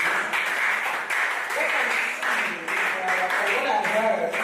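Conference audience applauding during a breakout session at a 2024 book festival, steady sustained clapping that fills the whole stretch at even loudness, with no voices over it.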